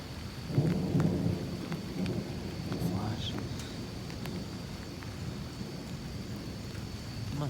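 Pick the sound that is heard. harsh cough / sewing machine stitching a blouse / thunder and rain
thunder and rain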